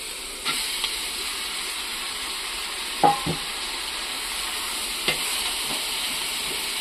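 Sliced onion with ginger-garlic-pepper paste sautéing in a pan for a country-style chicken curry, a steady low sizzle broken by a few sharp scrapes and clinks of a spoon stirring.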